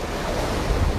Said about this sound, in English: I'm sure you can hear from our conversation now the sound of the tide.